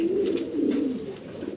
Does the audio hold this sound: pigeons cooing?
yes